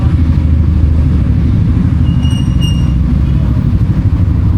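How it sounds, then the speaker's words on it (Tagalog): Several loud motorcycles run close by on a road during a day trip in Elyu, La Union, their engines forming a dense, steady low rumble that fills the whole stretch with no pause. "Hindi ako maririnig kasi ang lakas ng mga motor nila"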